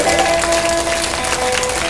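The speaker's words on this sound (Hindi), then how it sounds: "बजाइए कस के ताली, बजाइए कस के ताली बजाइए" An audience at a Bhagavat katha religious gathering claps hands steadily and loudly for two seconds, a dense continuous patter with a sustained musical tone running underneath.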